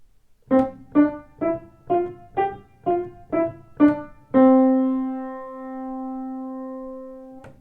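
Eight short, detached piano notes sound one by one in an even rhythm, then a final note rings out and slowly fades.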